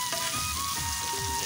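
Onion and vegetables fry on a clay stove, giving off a steady, close sizzle and hiss with faint crackles throughout.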